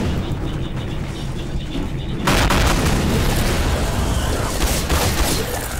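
A sudden loud blast erupts midway in Garry's Mod, followed by sustained rumbling and crackling bursts, a game explosion heard close up.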